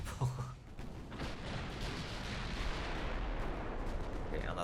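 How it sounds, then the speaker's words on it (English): A naval gun salvo fires in the naval warfare game Ultimate Admiral: Dreadnoughts, a deep booming blast that rolls on with a sustained rumble across the whole few seconds. "Okay, another salvo out."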